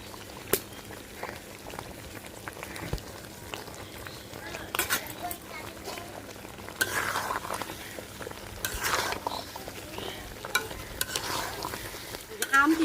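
Raw green mango pickle being stirred with roasted spices in a pan, giving intermittent scraping and sticky sizzling stirs with occasional utensil clinks, fairly quiet and close, with a few faint voices in the background.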